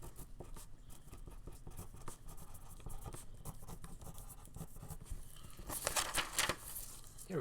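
A pen scratches across a paper schematic as labels are written, soft scribbling strokes in short bursts, close and quiet, with a louder flurry of scratching near the end.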